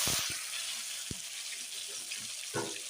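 Chopped onion sizzles loudly in hot oil with dried red chilli and whole cumin, a close, continuous frying hiss broken by a few stirring knocks.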